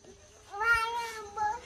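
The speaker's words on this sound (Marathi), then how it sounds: "बघ शिवला किती बोच करले बघ मांजराने." A domestic cat meows once, close and clear, in a drawn-out wavering cry that swells and then tails off, with a short second rise near the end.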